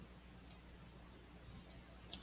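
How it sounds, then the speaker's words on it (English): A single quiet mouse click on the italic button in Word 2016, a short sharp tick near the start with a fainter pair of clicks near the end, over a low steady room hum. "We're going to click the italic button."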